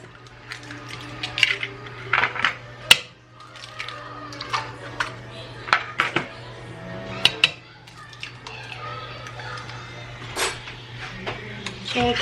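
Four eggs cracked one after another against a bowl's edge while making pumpkin batter in a home kitchen: sharp, close taps and knocks, scattered irregularly over a low steady hum.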